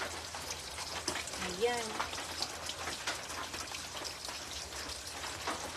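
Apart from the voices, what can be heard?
rain falling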